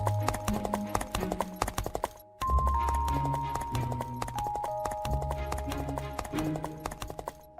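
Horse hooves clip-clop steadily on a village road for several seconds, loud and close, with music and a brief drop-out midway and an occasional neigh.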